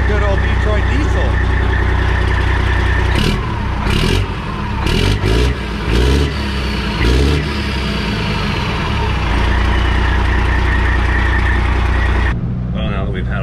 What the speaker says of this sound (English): It's a good old Detroit diesel.